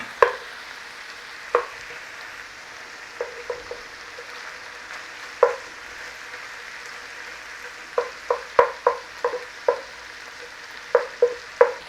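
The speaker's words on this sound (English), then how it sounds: "In with our garlic. Let's cook that rawness out of that garlic." Garlic fries in melted butter in a pan with a soft, steady sizzle, broken by a dozen or so sharp taps and scrapes as it is stirred.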